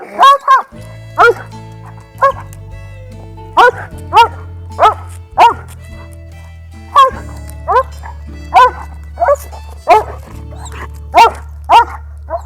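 A German shepherd dog barks in a steady series of loud, close single woofs spaced about a second apart, with a low continuous hum running underneath.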